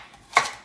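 A single crisp knife chop through carrots and celery on a cutting board, one short sharp hit in a quiet kitchen.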